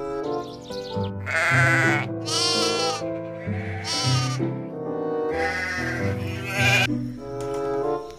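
Several loud, wavering bleats in a row, a goat-like voice repeated close up with short pauses between calls, from a toy goat.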